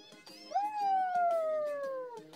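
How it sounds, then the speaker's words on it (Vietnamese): A lion in a zoo video game lets out one long, loud, tonal roar that slides slowly downward for nearly two seconds, over a busy rhythmic game background. "sư tử đang gừ, gầm gừ"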